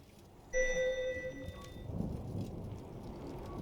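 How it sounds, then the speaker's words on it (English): Steady rain with a low thunder rumble during a storm in the game Return to Grace, faint and continuous, with a brief tonal chime near the start. "I can't believe this storm."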